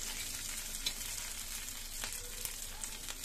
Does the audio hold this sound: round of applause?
no